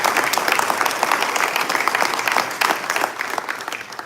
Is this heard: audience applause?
yes